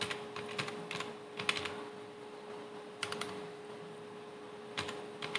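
Someone types on a computer keyboard while writing a C++ program, producing bursts of quick, light keystrokes with short pauses between them, close and fairly quiet.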